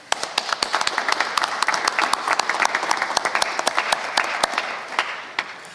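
A press conference audience applauds steadily for nearly six seconds, many close, sharp hand claps blending into a dense, even burst of clapping with no talk over it.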